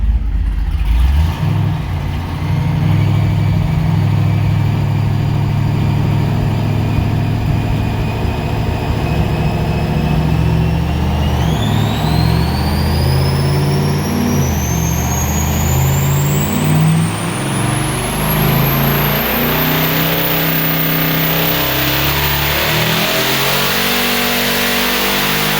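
A GMC truck engine roars on a dyno at 24 pounds of boost, climbing steadily through the revs with a rising turbo whine over a heavy, loud, sustained exhaust drone.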